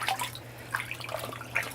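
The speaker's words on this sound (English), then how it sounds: "And then I pour water on her" Water poured over a small child sitting in a bathtub, a soft continuous trickle with scattered drips and splashes, close and fairly quiet with a low steady hum beneath.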